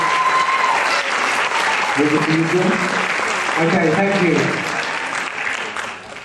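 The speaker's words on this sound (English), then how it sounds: "Round of applause for the ladies." Sustained audience applause fills a UKBFF bodybuilding competition hall, dense steady clapping that holds loud then tapers off at the end, while a host speaks briefly over it.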